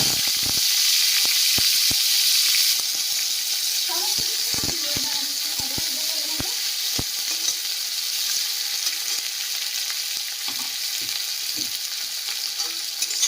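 Chopped onions and green chillies frying in hot oil in a pan on the way to a spicy katla fish curry: a steady close sizzle throughout, broken by occasional stirring clinks and scrapes.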